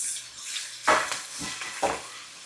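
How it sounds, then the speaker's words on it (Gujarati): Spoon stirring two spoons of sesame seeds, curry leaves, green chilli and garlic into a hot pan of popped mustard seeds for Gujarati dudhi bajra muthiya: a few close scraping clinks over a faint, steady sizzle, with no talking. "તલ 2 ચમચી, મીઠા લીમડાના પાન, લીલા મરચાં ને લસણ ને એને કરી દઈએ મિક્સ"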